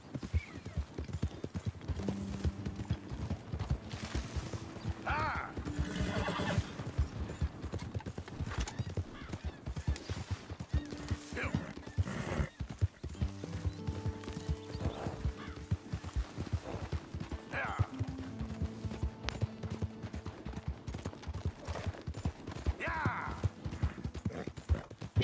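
A horse in Red Dead Redemption 2 clip-clops along at a steady rhythmic pace, hooves loud and close, with several whinnies and neighs breaking in over the running.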